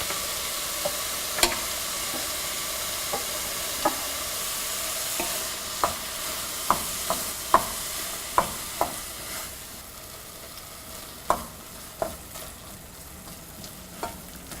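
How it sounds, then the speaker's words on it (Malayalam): Ground paste being mixed into beetroot pachadi, a Kerala dish, with sharp intermittent clicks and scrapes of a spoon against the pot over a soft background hiss, close by. "ഇനി ഇതിലോട്ട് നമ്മൾ അരച്ചു വെച്ചിരിക്കുന്ന അരപ്പിട്ട് ശരിക്കും മിക്സ് ചെയ്യുക."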